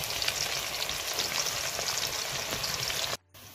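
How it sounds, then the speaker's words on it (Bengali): Sliced onions frying in hot oil to make beresta for a rohu fish biryani, a dense, even sizzle with fine popping that runs steadily and cuts off abruptly near the end. "বেরেস্তার জন্য পেঁয়াজ ভেজে নেব"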